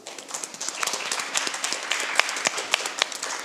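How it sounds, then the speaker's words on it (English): Studio audience applauding at a school quiz show match, a dense patter of many hands clapping at close range, steady and lively throughout with no talk over it. "A round of applause."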